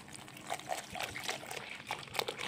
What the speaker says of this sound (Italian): Aggiungete acqua frizzante fredda fino a quando non otterrete una pastella